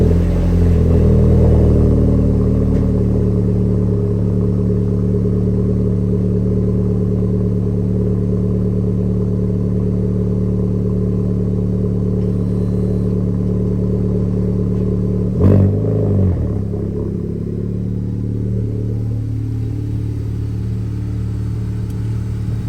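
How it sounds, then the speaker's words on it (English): A Honda Civic Type R engine rumbles steadily and low throughout as the car backs out, with a brief thump partway through before the engine settles slightly quieter. "Car backed out."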